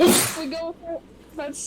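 A single loud, close sneeze bursts out at the start, followed by a few quick spoken words from the same person.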